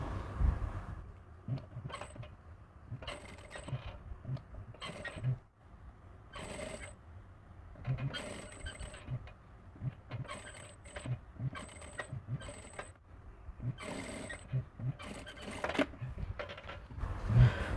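A sewing machine stitches rope piping onto a garment neckline in repeated short runs, its mechanical whir starting and stopping between pauses, moderately loud and close.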